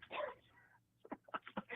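A man on a call-in show imitates a dog barking with a string of short, sharp yips and woofs after a brief breathy vocal sound, fairly faint.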